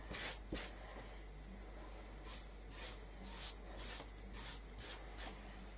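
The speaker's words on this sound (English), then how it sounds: "I want to give this a good coating, a good thick coat of the decoupage glue" Thick decoupage glue is brushed onto a botanical mixed-media tag in a series of soft, quiet swishing strokes, roughly a dozen short rubs coming in an irregular rhythm.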